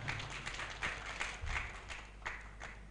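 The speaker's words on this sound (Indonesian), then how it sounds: "Tepuk tangan untuk kita semuanya" Audience applause at an Islamic organization gathering in East Java, a faint, scattered patter of clapping with irregular louder claps.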